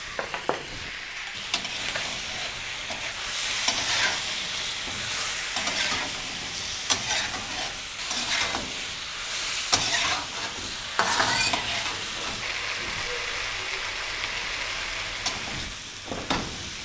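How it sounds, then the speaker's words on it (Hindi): Dumba mutton frying for Shinwari karahi, being stirred in the pot: a steady close sizzle with repeated scraping stirs and clanks of a utensil, with no talk over it. "गोश्त को हमने 10 मिनट अच्छे तरीके से भून लिया है।"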